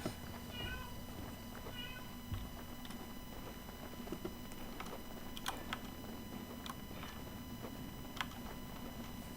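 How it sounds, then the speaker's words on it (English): An elderly female cat named Ella meows twice, a pair of short, fairly faint calls near the start, followed by quiet room noise and scattered light clicks. "She'd meow like that"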